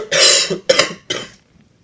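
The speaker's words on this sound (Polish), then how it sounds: "Niestety mam kaszel." Three harsh coughs in quick succession, close and loud, the first longest and the last trailing off into quiet.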